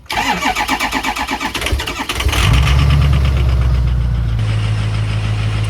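A diesel dually cab-and-chassis truck with four faulty glow plugs cranks with a rapid, uneven churning for about two seconds, then catches and settles into a loud, steady, rumbling idle close by.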